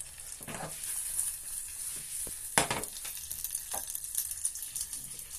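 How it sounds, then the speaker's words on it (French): Butter melts with chocolate in a pan, giving a soft, low-level sizzle and crackle with a few sharper clicks and scrapes along the way. "Pendant ce temps-là, le beurre il est en train de fondre"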